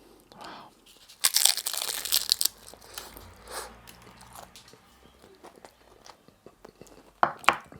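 A bite into a crispy homemade spring roll dipped in sweet chilli sauce gives a sharp, loud crunch, then softer chewing and crackling fades out before another brief crisp crunch near the end.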